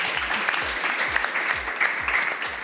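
An Under-12 youth football team of boys applauds in a TV studio, with steady, dense clapping from a small group at close range, alongside some faint voices.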